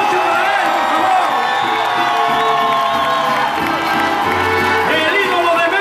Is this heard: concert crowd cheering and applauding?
yes